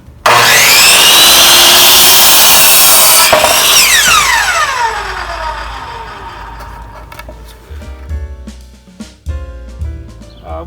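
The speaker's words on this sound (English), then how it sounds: "So we're going to cut a 2 by 8 in half right now," A saw cuts a 2 by 8 wooden board in half while building a garden raised bed, a loud, close power-saw whine for about four seconds that winds down, followed by scattered clunks and knocks.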